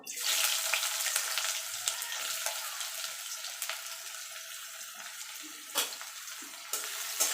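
Two medium chopped onions frying with a black cumin tempering in hot oil for a Bengali taro-leaf dish: a bright, even crackling sizzle throughout, with a few sharper spatters and light utensil knocks near the end.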